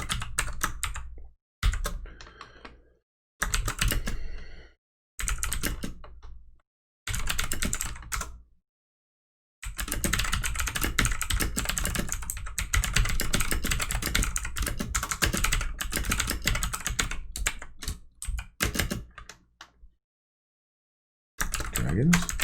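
Typing on a computer keyboard while programming a C# console game, with bursts of close, rapid key clatter broken by short silences and a long continuous stretch of typing, no talk.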